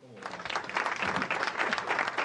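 Street crowd applauding an arriving jazz guest, dense continuous clapping that starts abruptly and holds steady, with a voice briefly audible at the start.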